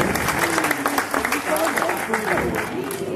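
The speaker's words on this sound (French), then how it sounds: "Vous pouvez applaudir la cascade?" A live audience at a magic show applauds a stunt with steady clapping that runs the whole time, and voices talk over it.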